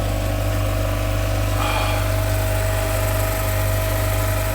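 A boat engine runs steadily on a calm sea, giving a loud, continuous droning hum with a low tonal throb that does not change throughout.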